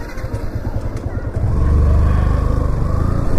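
Bike taxi motorcycle being ridden through town, its engine running close and loud with a steady drone that rises as it picks up speed after a second or so, with a voice briefly heard early on.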